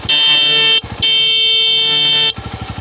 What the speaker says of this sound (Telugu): ఇప్పుడు హార్న్ సౌండ్ ఉంటుంది చూడండి